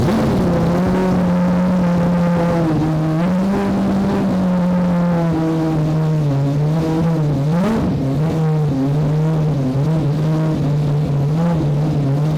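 A car launches hard from a standing start, its engine droning loud and close as the pitch holds high with small shifts and wavers over several seconds of sustained acceleration.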